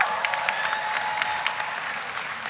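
A graduation audience bursts into applause, a brief, full round of clapping with a few sharper individual claps standing out near the front.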